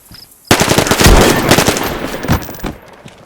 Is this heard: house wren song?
no